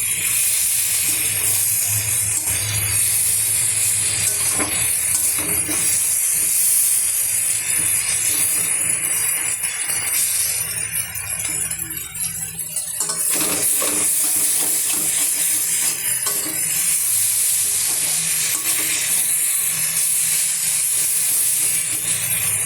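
Potatoes sauté in a pan, giving a loud, continuous sizzling hiss with faint scraping that runs unbroken for the whole stretch, dipping only briefly near the middle.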